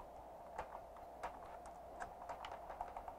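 Code being typed on a computer keyboard for an Arduino lesson, a quiet run of light, irregular key clicks with a few louder taps, close by and alone with no talk.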